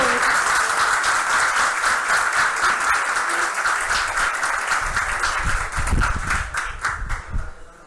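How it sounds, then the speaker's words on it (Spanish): Audience at a conference bursts into strong, sustained applause, dense clapping that holds steady and then tapers off near the end. "Ahora sí, un fuerte aplauso."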